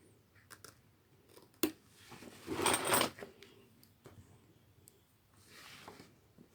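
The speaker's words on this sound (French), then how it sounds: "j'essaye de couper au plus près du zigzag" Scissors snip fabric close to zigzag machine-embroidered appliqué stitching, giving soft, close crunching cuts with one louder burst in the middle and scattered quiet clicks around it.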